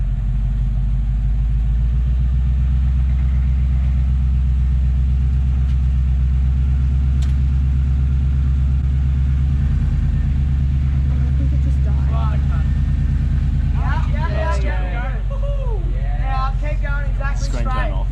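A 4WD vehicle's engine rumbles loud and steady at low revs during a slow crawl on the rough Yalwal track in NSW, with voices talking over it near the end.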